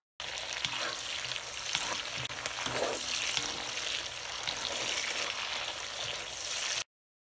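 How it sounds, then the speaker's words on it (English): Vegetables fry in very hot oil while a wooden spoon stirs them, producing a dense, continuous close sizzle with light scraping and crackle throughout before it cuts off abruptly. "Using my wooden spoon, I'm just giving my veggies a quick little mix in the hot oil"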